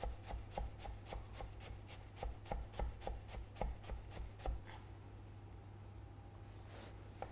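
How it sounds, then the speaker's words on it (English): A knife chops finely through a shallot on a board in quick, steady strokes, about a dozen sharp taps in a row before stopping and leaving quiet room tone. Close and fairly soft, with no talk. "all we're going to do to get it nice and fine is just chop through the shallot"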